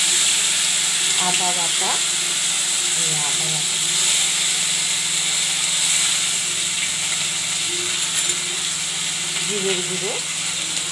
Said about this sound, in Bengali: ফোড়ন দিচ্ছি, দেখুন জিরা, তেজপাতা, কালো জিরা, কাঁচা লঙ্কা বাটা দিয়ে দিচ্ছি।